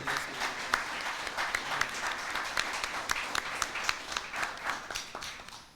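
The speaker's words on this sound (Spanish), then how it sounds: "para quienes pido un fuerte aplauso" A congressional audience gives sustained applause for the members of a panel at a conference, an even, moderately distant round of many hands clapping with no talk over it.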